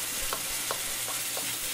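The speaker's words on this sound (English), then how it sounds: "And that's the proper way of sauteing your veg" Vegetables and garlic sauteing in a pan for General Tso's chicken, with a steady close sizzle broken by four evenly spaced scraping stir strokes.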